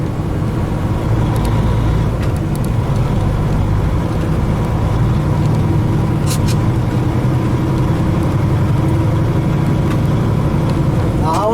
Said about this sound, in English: Now we're going to drop it into second gear high range.